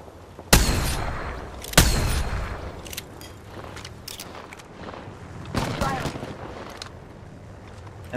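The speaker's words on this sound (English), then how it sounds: "I'm getting shot." Gunfire in a squad-based video game shooter: loud, sharp shots crack out at irregular intervals, with quieter shooting and game noise between them and players talking over the action.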